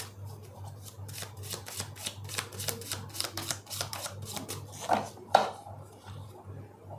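Tarot cards are shuffled close up in a series of quick riffling, flicking bursts with soft taps, steady and fairly quiet, with almost no talking.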